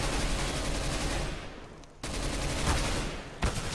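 Rapid automatic gunfire from the video game CS:GO comes as loud bursts, with a brief pause just before the two-second mark, then a second sustained burst that ends in a sharp final shot.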